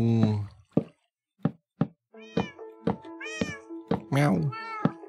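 Cats meowing in the video game Minecraft, a run of short, close meows repeating in quick succession, some overlapping, with brief soft knocks between them.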